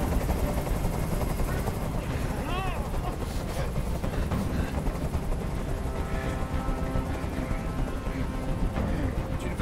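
A helicopter hovers nearby in the video game Detroit: Become Human, its steady loud rotor roar filling the scene beneath tense layered game sounds.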